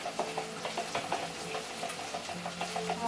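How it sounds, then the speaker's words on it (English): A measuring spoon stirs garlic and honey together, giving a steady series of soft scraping, clinking strokes against a bowl at close range, with no talk over it. "I'm going to actually just mix it with the measuring spoon so I can get all the honey"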